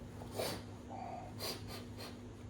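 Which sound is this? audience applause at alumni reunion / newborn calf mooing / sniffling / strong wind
sniffling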